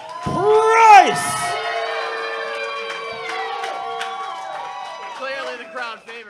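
Indoor wrestling crowd cheering and whooping for the challenger at an independent show, loud shouts and yells rising at once then holding as a sustained roar.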